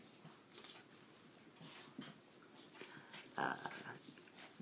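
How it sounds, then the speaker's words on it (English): Dogs whine and whimper close by, with short yelping bursts and snuffling that come and go over a low background hiss. "It's the dogs. I'm going to try and be loud so you can hear me over them."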